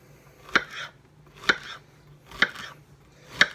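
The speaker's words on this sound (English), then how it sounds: "The rest of this I just cut into bite-sized pieces." A knife chops pineapple into bite-sized pieces on a cutting board, four sharp, evenly spaced thunks, close and clear with no talking.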